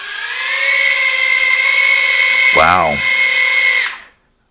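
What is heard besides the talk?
Furibee F36 quadcopter motors spinning in thrust test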